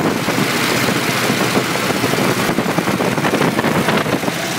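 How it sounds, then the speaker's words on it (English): A 1968 Toyota Land Cruiser FJ40 engine idles steadily up close, a loud continuous rumble with a fast ticking pulse from a tiny header leak, with no voices over it. "There is maybe a little header leak that you can listen and hear, tiny."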